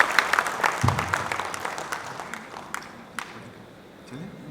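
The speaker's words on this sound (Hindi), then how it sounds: "एक बार जोरदार तालियां हो जाए सर के लिए।" Applause from the audience at a conclave session, brisk clapping in the first half that thins out and fades, with faint voices under it.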